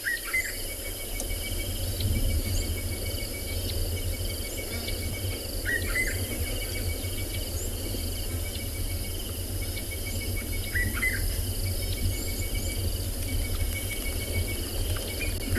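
An orange-breasted bushshrike calls in short repeated phrases near a river on a South African morning safari, set against a steady, dense chorus of crickets and other insects.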